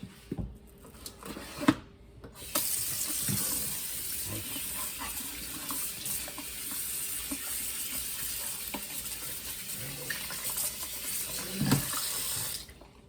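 Raw beef being washed under a running kitchen tap, a steady hiss and splash of water over meat in a sink with occasional handling knocks, no talking.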